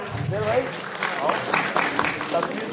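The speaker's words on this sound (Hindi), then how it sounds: "एक बार उनके लिए जोरदार तालियां" Applause from the audience at an Urdu mushaira in Lucknow runs as a broad, moderate patter beneath a voice, which carries on over the clapping throughout.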